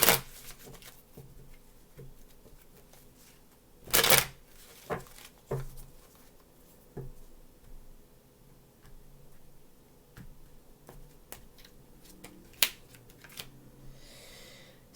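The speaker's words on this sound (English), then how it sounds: "2 more shuffles, please." Soft shuffling and riffling of tarot cards, close but quiet, with scattered taps and a few sharper snaps and bursts of card noise.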